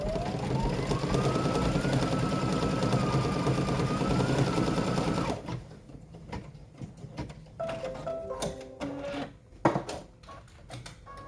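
A sewing machine stitches a fabric mug wrap in a steady, close whirring run for about five seconds, then stops. Scattered clicks and handling noises follow.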